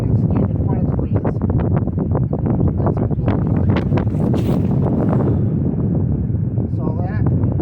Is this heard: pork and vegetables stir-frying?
no